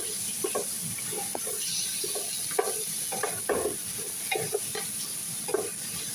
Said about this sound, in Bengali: এই দেখেন আমি কত সুন্দর করে ভাজি করে নিচ্ছি